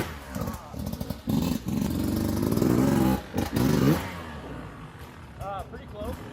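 Beta 200rr dirt bike engine revving hard in a backyard wheelie attempt, a loud sustained rasp rising and falling for about three seconds with brief clattering cuts, then quieter, and a voice speaking near the end.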